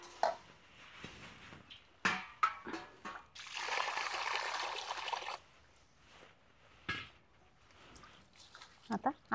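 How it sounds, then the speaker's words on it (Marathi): Clean water being poured over washed rice after the old water is drained, a steady gush lasting a couple of seconds between quiet clinks and a woman's speech. "हे पाणी काढून परत स्वच्छ पाणी टाकून"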